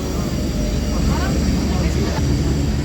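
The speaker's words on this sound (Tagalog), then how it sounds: "At ayan na nga ang airplane." Aircraft engine noise at an airport gate, a steady loud drone that holds for the whole stretch with no break.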